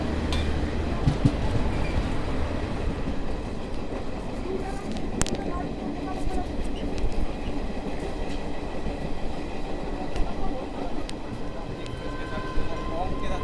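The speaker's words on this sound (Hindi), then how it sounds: "कोलकाता झांसी एक्सप्रेस के साथ" The Kolkata Jhansi Express runs alongside on Indian railway track, heard from aboard the Chennai Garib Rath Express. Wheels give a continuous loud rumble with steady clickety-clack and occasional sharp metallic clanks, and voices murmur in the background.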